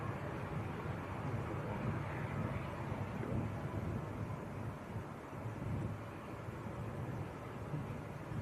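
A Cathay Pacific airliner taxiing at Manchester Airport, heard as a steady distant low engine rumble and roar with wind buffeting the microphone, constant throughout with no talk.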